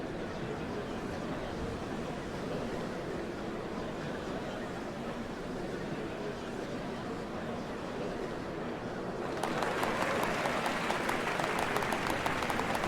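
Crowd in Final Fantasy XIV applauding at the changing of dawn servants, a dense steady wash of clapping and murmur that swells louder and brighter near the end.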